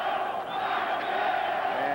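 Boxing arena crowd at a fight between Luisito Espinosa and Juan Carlos Ramirez, a steady loud roar of many voices chanting together, continuous and sustained without a break.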